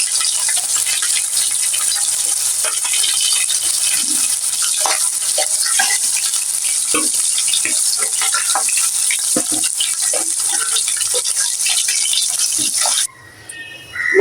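Hilsa fish frying in oil in a pan gives a loud, dense, bright sizzle with crackling spits, steady and close for most of the time before cutting off abruptly near the end.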